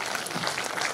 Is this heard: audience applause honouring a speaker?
yes